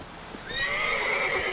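A horse in The Witcher 3 video game gives a single loud, close neigh that rises and holds for about a second, with no talk over it.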